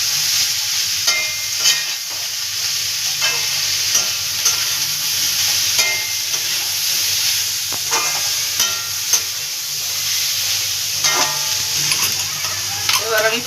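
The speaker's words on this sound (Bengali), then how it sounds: "ভালো করে ভাজা ভাজা আর একটু করে দিই।" Food sizzles and hisses in hot oil with salt and turmeric added, a spatula scraping and stirring in irregular strokes throughout, loud and close.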